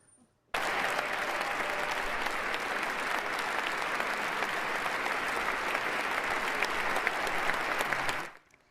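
A crowd at a political ceremony attended by outgoing president Joe Biden breaks into loud, sustained applause that starts abruptly, holds steady for about eight seconds, then cuts off.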